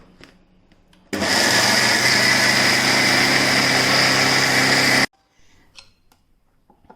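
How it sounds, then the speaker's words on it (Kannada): An electric mixer grinder grinds dosa batter with cucumber, starting abruptly as a loud, steady high-pitched whirring drone that runs about four seconds and then cuts off sharply, with quiet handling noises before and after. "ಹಾಗಾಗಿ ಕೊನೆಯಲ್ಲಿ ಹಾಕಿ ಮತ್ತೆ ಗ್ರೈಂಡ್ ಮಾಡಬೇಕು."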